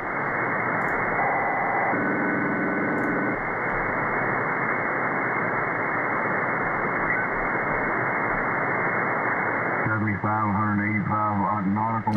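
Shortwave radio static on an SDRuno software receiver, a loud steady hiss of broadband crackling noise throughout, with faint tones and a station's warbling signal emerging near the end.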